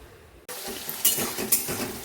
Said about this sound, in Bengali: কড়াতে প্রথমে দিয়ে দিলাম হচ্ছে পেঁয়াজ কুচি কুচি করে রাখা পেঁয়াজটাকে এখন ভেজে নেবো ভালো করে